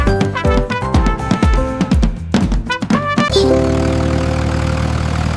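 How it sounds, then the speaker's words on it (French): A small tractor engine starts with a series of sputtering bursts, then settles into a steady, loud roaring drone up close. "Le rugissement du petit tracteur était fort."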